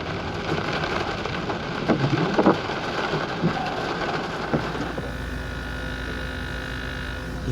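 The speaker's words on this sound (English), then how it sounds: "And storm has started, the Saturday night version." An evening storm on a Saturday night brings steady rain and low rolling thunder, a few louder rumbles swelling midway before the downpour settles into a softer, even hiss.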